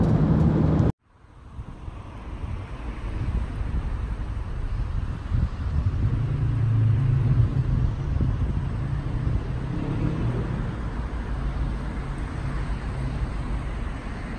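A car driving along a road, with steady broadband rumble of engine and tyre noise close by, wind buffeting the microphone, after an abrupt silence in the first second.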